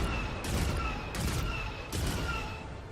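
Walker barrage fire in the Destiny 2 Renegades campaign, three heavy broadband volleys spaced roughly evenly over a constant low rumble and a steady whining tone, loud and close with no talking.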